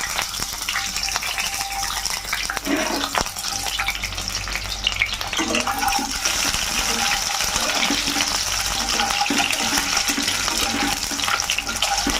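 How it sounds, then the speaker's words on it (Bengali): Eggs frying in a pan of hot oil for a curry, a loud, dense, continuous sizzle close up with scraping stirs and bubbling throughout. "ওই তেলের মধ্যে এবারে ডিমগুলো ভেজে নেব।"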